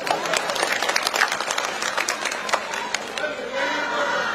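Crowd applause at an outdoor political rally in Jaisinghpur, Kangra, with women in the audience clapping in response to a chief minister's announcement; dense, steady clapping and crowd noise fill the whole span, with voices mixed in.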